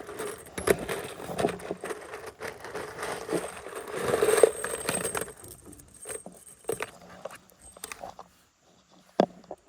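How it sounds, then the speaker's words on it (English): A handful of 2.5-inch screws are tossed into a pipe, rattling and clinking in irregular metallic bursts, loud at first and then thinning to scattered taps and near quiet toward the end. "Now you throw some screws in that pipe."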